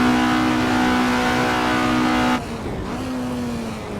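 Race car engine in the Assetto Corsa racing game, a loud steady high-pitched drone with strong harmonics that drops abruptly partway through to a lower, quieter engine tone, with no talk.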